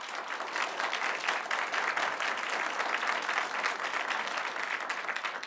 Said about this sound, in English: that's not an applause line for me